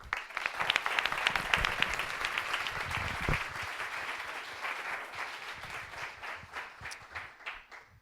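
An audience at a game-industry pitch demo day claps steadily for several seconds, dense and lively at first, with a few sharper individual claps standing out, then thinning and fading toward the end.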